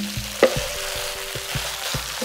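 Cooked rice with soy sauce, dried shrimp and shiitake mushrooms being stir-fried in a wok: a constant bright sizzle, broken by a series of soft, regular stirring scrapes and taps, close and without talking.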